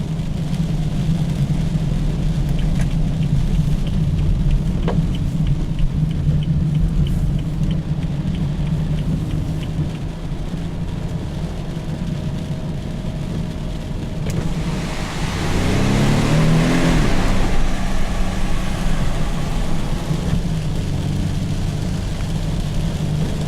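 A 2015 BMW 428i four-cylinder with paddle shifters drones steadily from inside the cabin while driving, with road and wind noise underneath. Partway through, the engine swells in a brief rising rev before settling back to a constant hum.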